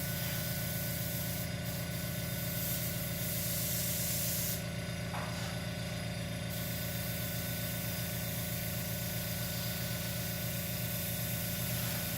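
A continuous hissing airbrush spray of paint runs throughout over a steady compressor motor hum, with brief shifts in pitch as the spray changes.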